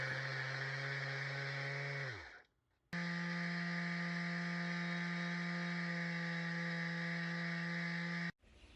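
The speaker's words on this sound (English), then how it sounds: "He went and grabbed the big sander, so now he's going to try to sand it down flat." A big power sander runs on a resin project with a steady loud whine, spinning down and stopping after about two seconds, then restarting for another long even run before cutting off.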